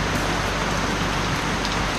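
Heavy rain pours down in a dense, unbroken hiss with constant drumming on surfaces, loud and steady throughout.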